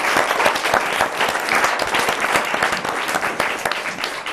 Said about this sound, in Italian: Allora loro un applauso.